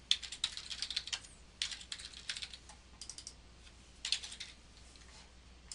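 Rapid computer keyboard typing in short bursts of light clicks with brief pauses between, quiet and close.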